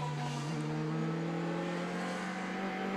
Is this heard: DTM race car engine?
yes